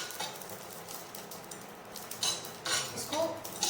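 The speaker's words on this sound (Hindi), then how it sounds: "इसको चलाते रहिएगा जब तक कि ये अच्छे से रोस्ट ना हो जाए।" Carom seeds (ajwain) roast in a pan with quiet scraping and light clinks as a spoon stirs them steadily.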